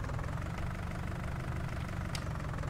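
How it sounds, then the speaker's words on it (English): A fairly big tractor's engine idles in a farming video game, a steady, low, even rumble held at moderate level throughout with no talk over it. "This actually is a fairly big tractor"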